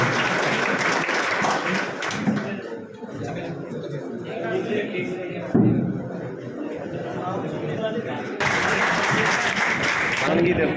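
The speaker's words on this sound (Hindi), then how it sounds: "एक बार ज़ोरदार तालियों से उनका स्वागत कीजिए।" At a coaching class birthday event, the audience applauds to welcome a guest: loud, sustained clapping mixed with chatter and a voice speaking over it, dipping midway before swelling again.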